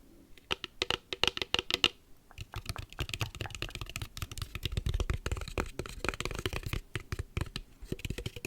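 Oracle cards from a goddess guidance deck being shuffled up close for ASMR, a rapid series of crisp flicking riffles and soft taps in bursts, with brief pauses between rounds.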